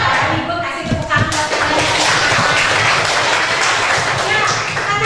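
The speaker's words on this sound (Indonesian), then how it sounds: "Ibu kasih tepuk tangan" A classroom of students applauding at the teacher's cue, dense and steady clapping close by with some thumps and shuffling, loud throughout.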